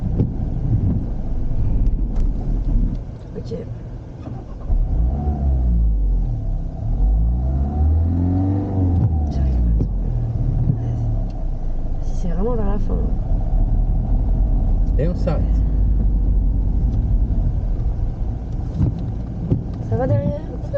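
A learner driver's car engine rumbles and revs as she releases the brake with the clutch held down and pulls away, with wind buffeting the microphone and voices talking over the steady engine drone.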